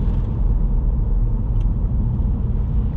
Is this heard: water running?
no